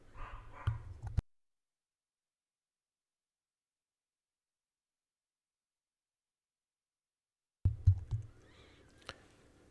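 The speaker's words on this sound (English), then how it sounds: "I'm just gonna mute my mic while my dog is barking." A pet dog barks indoors in short bursts at the start and again near the end, each burst cut off by a long stretch of dead silence between them.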